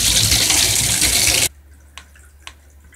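A tie-dyed shirt is rinsed under a loud, close running tap for about a second and a half, then the water stops abruptly, leaving two small clicks in near silence.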